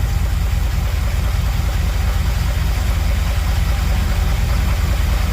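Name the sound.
V8 truck engine idling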